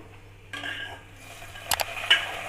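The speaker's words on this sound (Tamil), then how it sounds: "சேர்த்துட்டு நல்லா கிளறி விட்டுருங்க" Curry leaves are stirred into ven pongal in a pot, with quiet spoon scrapes, a couple of sharp metallic clinks against the pot and a faint sizzle underneath.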